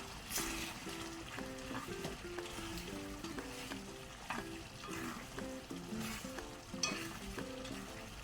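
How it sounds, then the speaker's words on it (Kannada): Broken dry red chillies roast and sizzle in a pan, a steady frying crackle with rhythmic stirring scrapes throughout, close and fairly quiet, with no voices. "ಒಣಮೆಣಸನ್ನು ಈಗ ಒಳ್ಳೆ ರೀತಿ ಇದನ್ನು ಡ್ರೈ ಮಾಡುವ."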